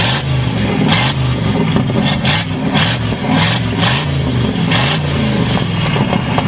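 A 1985 front-wheel-drive Buick fitted with a small block Chevy V8 and no exhaust doing a burnout, the loud, raw engine roaring and rising in repeated revving surges close by.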